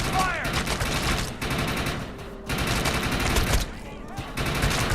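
Dense, continuous gunfire from the sci-fi shooter game Defiance, a loud sustained battle of rapid shots and bursts running throughout with only brief dips, backed by in-game voices.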